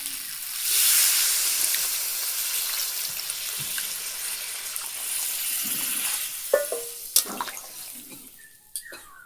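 Water poured into frying masala in a pan, a loud rushing hiss and sizzle that swells and then slowly settles, with a few clinks of a utensil near the end.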